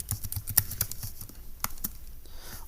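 Typing on a computer keyboard, a quick irregular run of close, crisp key clicks with short pauses between bursts.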